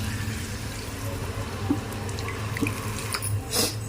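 Tap water runs steadily while a plate is washed in a kitchen where fish pulusu is being cooked, a close, continuous splash with a few soft clinks and drips and no talking.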